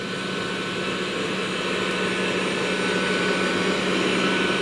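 A Dreame Bot L10 Pro robot vacuum cleaner runs with a steady, loud whirring hum, constant and unbroken, as it cleans a carpeted apartment floor with no voices over it.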